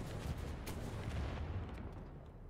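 Gunfire and explosive booms from the first-person shooter Wolfenstein: The New Order, heard as a short, loud burst of dense shooting that fades over about two seconds, with no voices.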